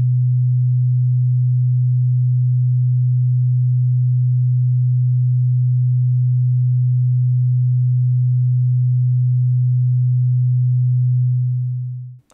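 A pure, deep low-frequency sine test tone holds at a steady loud level for about twelve seconds and then fades out abruptly. There is no other sound.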